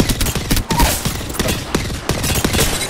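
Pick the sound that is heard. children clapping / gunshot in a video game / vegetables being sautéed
gunshot in a video game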